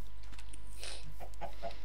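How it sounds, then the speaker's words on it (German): Chickens in the video game Minecraft cluck in a few short, soft bursts over a steady low background hum. "Oh, hier sind noch mal mehr paar Hühner."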